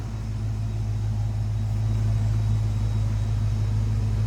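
A 1989 Ford Mustang GT convertible's 5.0 V8 idles with a steady, deep exhaust rumble, close and even throughout, with no voices.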